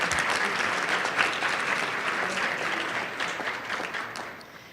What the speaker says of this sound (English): So a round of applause, please, for Caleb.